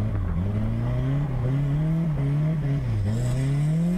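A car engine revs hard while the car drifts, giving a continuous loud droning roar that rises and falls as the throttle changes, with no voices over it.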